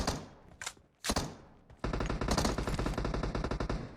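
Gunfire in the PUBG Mobile battle royale game: a few sharp single shots followed by a long, loud rapid burst of automatic fire, close and continuous, with no talk.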